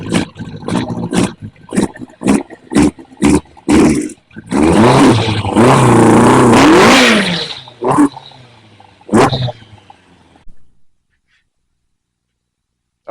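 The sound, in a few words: Kawasaki ZX-11 motorcycle engine running and revving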